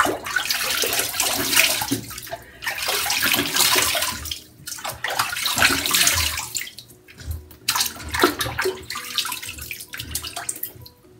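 Water runs from a tap while a face is washed with homemade lavender shea soap, a steady splashing flow with brief gaps and shifts as hands move through it, close and fairly loud with no talking.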